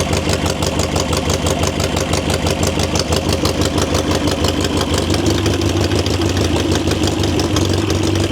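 A motorcycle engine runs steadily at a loud, rapid, even idle close by. Its pulsing note holds almost unchanged throughout as the bike runs out of gas.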